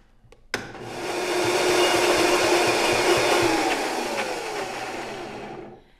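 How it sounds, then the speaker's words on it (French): A blender whirs loudly through ground ivy pesto after a sharp click start, holding a steady roaring whine for several seconds before winding down and stopping. "On va blender."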